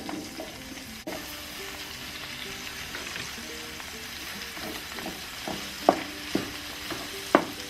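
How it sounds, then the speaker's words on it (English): Mushrooms sauté in a skillet over medium heat, giving a steady close sizzle with a few sharp utensil clicks and taps toward the end. "we're going to add our mushrooms to saute for like 2 or 3 minutes"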